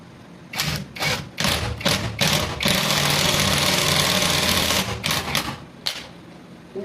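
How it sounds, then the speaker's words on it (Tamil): Impact wrench driving a screw into a block of wood, heard as loud bursts of rapid hammering rattle, several short pulses, then a long sustained run, then more short bursts, close up. "இது நல்லா அந்த ஹாமர் எஃபெக்ட் இருக்கனால நல்லா அடித்து ஏற்றுது."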